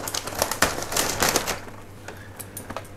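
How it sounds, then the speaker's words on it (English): Paper wrapping crinkles and rustles as a newly bought orchid is unwrapped, with close, busy crackling at first that thins to sparse, quieter rustles. "So let's get it out of the paper."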